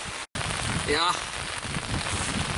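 Rain pattering steadily during sea fishing on an island shore, a broad even hiss filling the whole stretch, with a brief voice and a short whistling tone partway through.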